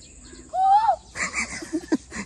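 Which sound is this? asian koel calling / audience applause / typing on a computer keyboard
asian koel calling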